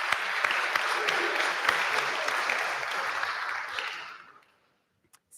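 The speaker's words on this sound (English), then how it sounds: "Round of applause for our phlegmatics." A crowd claps loudly at a talk on temperaments, a sustained burst of dense applause that fades out near the end and gives way to near silence with a couple of faint knocks.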